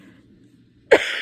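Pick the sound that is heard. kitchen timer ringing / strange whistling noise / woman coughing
woman coughing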